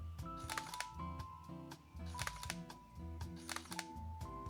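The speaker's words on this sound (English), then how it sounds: "But the shutter is supposed to be really very loud." A Sony a7R Mark I camera shutter firing in quick repeated bursts, each a close, crisp mechanical clack-clack, with short gaps between the groups of shots.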